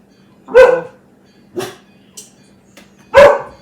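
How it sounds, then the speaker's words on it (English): Dogs barking at neighbor kids in the morning: three loud, close barks spaced about a second apart, with a faint yip between them and a low steady hum underneath. "my dogs bark at them every morning"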